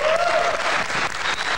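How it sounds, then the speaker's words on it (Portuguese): Audience applause on a TV program, a steady wash of many hands clapping together, loud and continuous for a brief moment. "Aplaudir, gente!"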